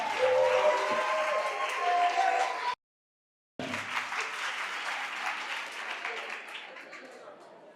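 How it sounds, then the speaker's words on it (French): Audience applause at a school quiz competition, a dense wash of clapping from a crowd that cuts out abruptly for a moment, then resumes and slowly fades. "On applaudit pour eux, s'il vous plaît."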